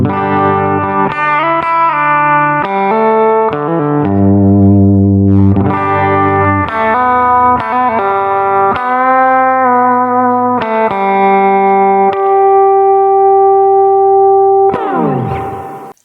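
A distorted electric guitar plays a tablature example, a continuous run of sustained, ringing notes and chords that ends with a quick sliding flourish.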